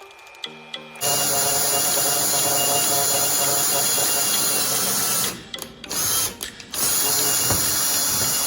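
Drilling through steel with Tap Magic cutting fluid during an aircraft build, a loud, steady, close tool whine that runs for several seconds, dips briefly twice, then resumes.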